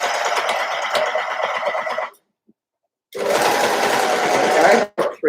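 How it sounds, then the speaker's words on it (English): An overlocker sewing machine runs loud and close through thick fabric on a sweater, its rapid mechanical chatter stopping for about a second before starting again and straining hard. "Now it's quite thick here, and the overlocker's telling me it doesn't like it very much"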